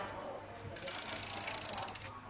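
Rear freewheel hub on a Giant FCR 5300 touring bicycle ticking out a fast, even ratchet buzz of dense clicks for over a second as the wheel spins, close by, then cutting off abruptly.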